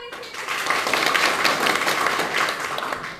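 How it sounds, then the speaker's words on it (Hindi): A small group claps their hands in a brisk burst of applause, fairly close and lively for a few seconds. "ताली बजा दो"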